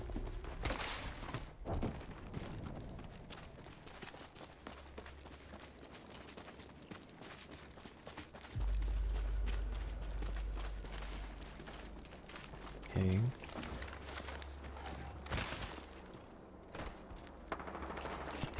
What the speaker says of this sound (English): Oh, gunshots.